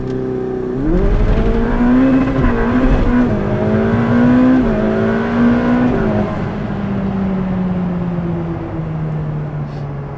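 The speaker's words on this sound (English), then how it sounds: "I screwed up and hit the red line and spun the tires really hard" A Ferrari F8 launches hard downhill, its engine screaming up toward the red line as the tires spin, then shifting gears and easing into a steady loud drone with a brief voice over it.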